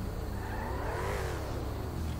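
A damaged car in a GTA 5 demolition derby sputters along, barely running, its engine note droning steadily and rising then falling slightly in pitch throughout, close and continuous with no talk.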